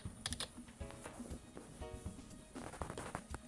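Rapid, uneven keystrokes on a computer keyboard as a database name is typed during a SQL Server Express 2012 setup, close and fairly quiet, with brief pauses between bursts.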